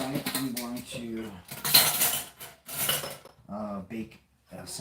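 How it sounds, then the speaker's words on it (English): A kitchen knife is washed at a sink, with metallic clinks and clatters of cutlery and dishes, close and fairly loud, mixed in with someone talking throughout. "I'm going to wash this knife."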